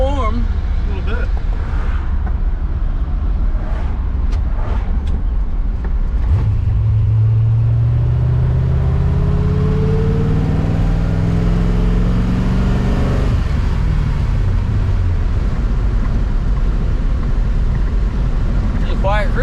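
A 1966 Corvette with a 427 big block engine and a shaky water pump rumbles loudly from the cabin, its low drone climbing and falling in pitch as it revs under steady road noise, with voices talking over it.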